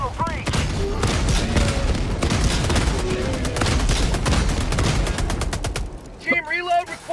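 Sustained autocannon fire in Helldivers 2, a dense run of heavy rapid shots with booming reports that thins into distinct spaced blasts before ending, followed by a short burst of excited voices.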